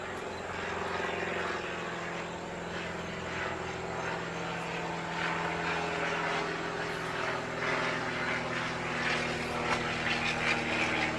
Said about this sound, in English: Sorry, a plane is passing by again.